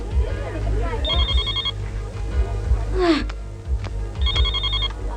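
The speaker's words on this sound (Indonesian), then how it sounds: "HP lo tuh, terima dong." A mobile phone ringtone plays in two short electronic bursts, separated by a pause, beneath people talking and other scene noise.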